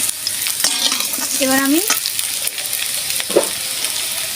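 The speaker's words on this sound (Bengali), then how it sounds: "দেখুন আমার ভাজা হয়ে গেছে, লাল লাল করে আমি ভেজেছি" Pieces of taro frying in a pan while being stirred, a steady sizzle with scraping stir strokes, and a brief voice speaks partway through.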